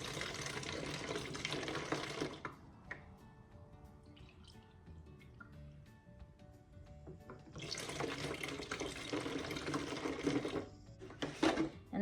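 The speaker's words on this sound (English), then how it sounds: "And then to all of that, you're gonna add 2 cups of water." Water poured from a measuring cup into a homemade moth trap mixture of ammonia and other ingredients, heard as two loud bursts of splashing, gurgling liquid separated by a quieter stretch with faint clinks.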